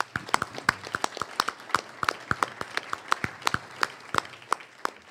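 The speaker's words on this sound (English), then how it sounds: "let's have a big round of applause for all of our students tonight" A small audience at a regional student idea pitch competition claps for the students, sparse individual claps in an uneven patter, fairly close and moderate in volume.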